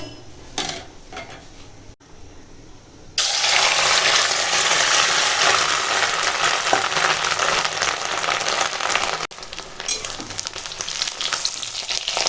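Fish roe frying in hot oil in a pan: a loud, dense sizzle bursts in after quiet clinking of utensils and holds steady for several seconds, close up, with occasional scraping and stirring against the pan.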